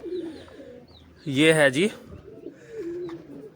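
Pet pigeons being fed ground roti give one clear, throaty coo in the middle, with softer bird sounds around it and someone talking nearby.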